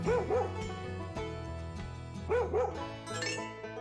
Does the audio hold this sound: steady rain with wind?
no